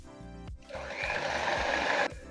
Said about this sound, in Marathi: परत आम्ही एखादा मिनिट आपण ह्याला फेटून घेऊया